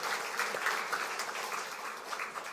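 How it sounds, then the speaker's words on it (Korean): A congregation claps at a church Christmas thanksgiving service, a steady patter of hands heard from a distance, fairly faint and even throughout with no talking. "더 큰 박수를 하나님께 영광 돌리겠습니다."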